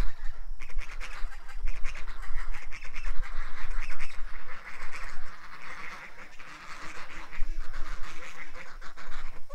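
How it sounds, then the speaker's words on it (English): Loud, dense quacking and honking from a crowd of ducks and geese, continuous and close, overlapping calls throughout. "The nerve of the ducks and the geese interrupting the show, eh?"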